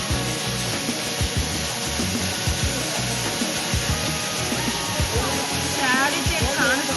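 A waterfall roars in a steady, loud, close rush of falling water, with voices talking faintly underneath.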